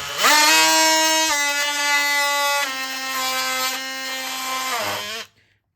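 Oscillating multi-tool fitted with a TOLESA blade cutting and shaving an edge, a loud, close, steady high-pitched buzzing whine that holds for about five seconds before stopping abruptly.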